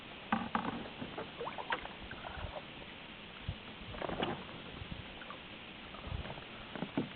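A vintage Klepper kayak is paddled on Mono Lake, with soft, irregular splashes and water drips from the paddle strokes, faint and close in a quiet setting.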